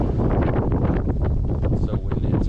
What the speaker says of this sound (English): It's so windy, it's hard to hold on to my rod.